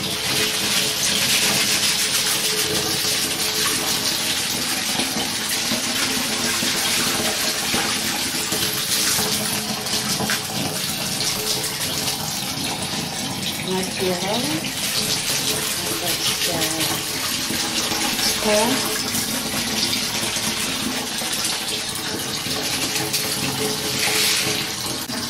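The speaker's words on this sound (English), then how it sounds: "It's running water." Water runs steadily from a tap into a bath prepared with rose petals, a continuous gushing hiss throughout, with a person speaking briefly over it.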